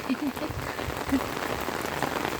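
Rain falls steadily on the rooftops of residential quarters as a dense, even hiss with scattered droplet taps. A few faint low knocks and children's voices sit in the background.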